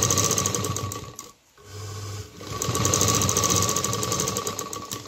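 A sewing machine stitches a double seam on a cloth dholki bag, running close and loud with a rapid steady chatter, briefly dropping out before resuming.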